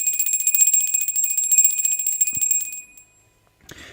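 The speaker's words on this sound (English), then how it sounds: "we ring the bell" A small bell is rung once during a tarot reading, giving a bright sustained metallic ring that fades over about three seconds, followed by a brief soft knock and rustle, close and loud.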